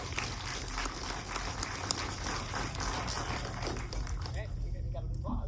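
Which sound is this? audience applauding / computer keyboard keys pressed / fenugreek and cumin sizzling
audience applauding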